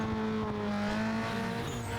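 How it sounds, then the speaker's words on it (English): A car's exhaust roars in Need For Speed Underground 2, a loud, steady, raspy engine drone like a holed exhaust, close and alone with no talk. "Listen to the roar of that exhaust. That sounds like it has a hole in it."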